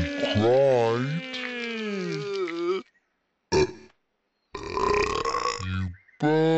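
A cartoon baby pig gives a long, wavering, throaty burp. It is followed by short bursts of cartoon voices with brief silences between them.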